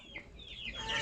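A chicken recovering from a pox-like illness gives a short burst of close clucking, heard alone for about a second.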